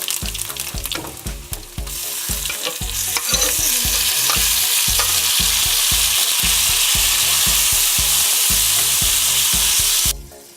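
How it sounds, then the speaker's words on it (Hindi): Tomatoes hitting garlic paste in a hot pan, a loud continuous sizzle and frying hiss that swells and holds steady, with a regular spatula scraping rhythm running underneath. "गार्लिक पेस्ट डालने के बाद ऐड करेंगे टमाटर"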